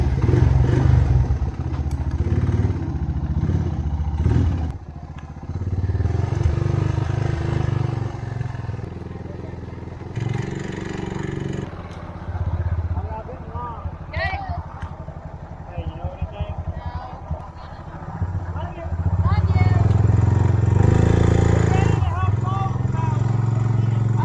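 A four-wheeler ATV carrying a lunch delivery across a farm in spring, its engine droning and rattling as it rides, with speech over the motor and brief rises and dips in the engine.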